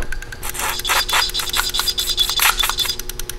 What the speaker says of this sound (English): We're gonna ramp that injector pulse up.